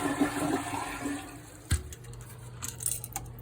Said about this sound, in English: See what kind of flushing power we have.